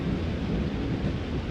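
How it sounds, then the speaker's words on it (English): Rain and thunder ambience from an Identity V game cinematic: a steady, dense wash of falling rain with a low rolling rumble underneath, continuous and fairly loud throughout, no voices. "Soon, rain indeed fell."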